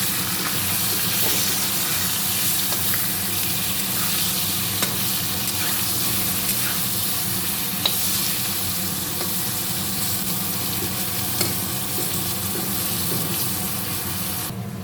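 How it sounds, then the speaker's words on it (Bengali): Potato and eggplant frying in a pan with turmeric and salt, giving a steady, close, continuous sizzle with faint stirring scrapes throughout and no talk. "দিয়ে ভালো করে আলুটা আর বেগুনটা আমি ভেজে নেব"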